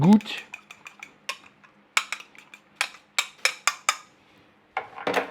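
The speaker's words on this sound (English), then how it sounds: "I'm gonna whisk this up." Whisking eggs in a bowl: rapid clinking of a whisk against the bowl in irregular bursts, close and crisp, with short pauses between strokes.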